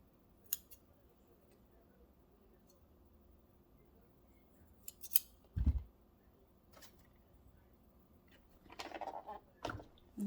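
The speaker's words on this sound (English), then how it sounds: "You're going to cut off your thread." Scissors snip off a length of sewing thread at the end of a line of stitching, a couple of quiet, brief cuts spread out over a faint, hushed background.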